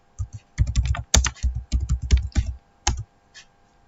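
Keystrokes on a computer keyboard as a network router command is typed, a quick irregular burst of close, crisp clicks in short runs separated by brief pauses, with no voices.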